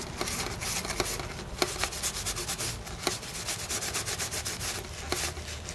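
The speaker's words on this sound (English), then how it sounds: "I can just wipe those down with IPA on both sides now." Cloth wiping Commodore C64C keyboard parts with isopropyl alcohol, a steady close scrubbing rub with a few sharper scuffs, continuous and fairly loud with no voices.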